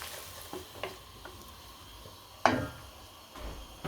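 Egg mixture being stirred into a lentil curry (anda daal), with a few soft spoon scrapes and a brief louder stir against the pot under a faint simmer, no talking.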